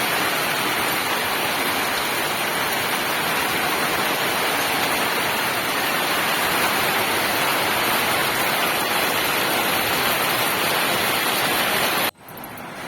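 Rain falls steadily outside during a wet day, a dense, even hiss that holds unchanged for the whole stretch before briefly dropping near the end, with no voices.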